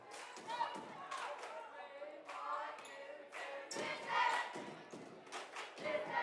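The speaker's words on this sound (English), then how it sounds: "Cheer team from Pitkin very loud with their intentions of wanting her to miss it" Pitkin's high school cheer team chants loudly and rhythmically during a girls basketball free throw, with shouted bursts and thudding stomps or claps echoing in a gym while an announcer talks over them.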